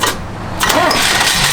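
A 1969 Chevrolet Camaro SS fires up in neutral, a brief starter crank giving way to a loud, steady engine roar that fills the rest of the moment up close.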